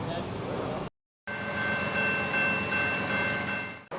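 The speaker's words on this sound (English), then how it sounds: "There's just something about the sound of a train on the tracks, even a tiny one" A small model train rolls along tiny tracks on a Canadian model railroad layout, a steady close rumble with a thin whistle-like tone over it, broken by one short silent gap.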